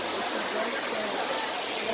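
Dunn's River waterfall at a beach setting, a steady broadband rush of falling water, loud and continuous without a break.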